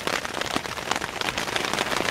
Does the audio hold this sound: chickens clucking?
no